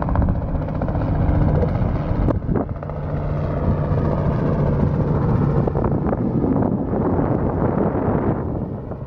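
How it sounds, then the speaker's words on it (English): A helicopter flies near an aircraft carrier, heard as a loud, steady rotor and engine roar mixed with heavy wind buffeting on the microphone, with one sharp knock partway through and no voices. "They have chopper rides, helicopter rides."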